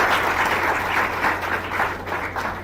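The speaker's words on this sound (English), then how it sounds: "It's another round of applause to Mama" A live audience applauds a nurse named Mama, a continuous wash of clapping at moderate level, with no one speaking over it.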